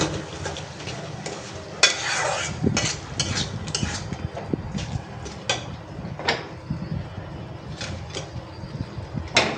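Fish frying in spice paste in a pan on a stove, with a soft steady sizzle under repeated sharp scrapes and clinks of a spoon stirring against the pan, close and moderately loud.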